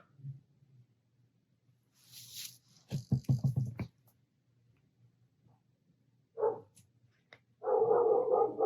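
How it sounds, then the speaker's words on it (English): Dogs bark in a few short bursts, a rapid run of barks in the middle and another loud flurry at the end, fairly close in an otherwise quiet indoor room. "Oh, there go my dogs."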